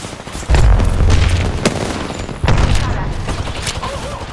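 Gunfire in the Apex Legends video game during a Threat Level event, heavy booming bursts of shots, two loud volleys with rapid rattling in between, mixed with game voice callouts.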